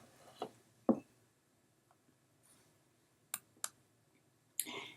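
Scattered crisp clicks from a computer mouse, a couple of isolated taps early on and then a quick pair followed by a last sharp click, close and fairly quiet against near silence.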